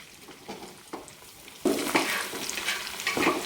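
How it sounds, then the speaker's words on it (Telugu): Bitter gourd pieces and onions fry in a pan while being stirred, with close scraping stirs and a growing crackling sizzle as the pieces hit the hot oil. "ఆనియన్స్ కొంచెం ఫ్రై అయిన తర్వాత కట్ చేసి పెట్టుకున్న కాకరకాయ ముక్కలను అయితే ఈ విధంగా వేసుకోవాలి. ఇలా వేసిన తర్వాత ఒకసారి మళ్ళీ ఇదంతా బాగా కలుపుకోవాలి."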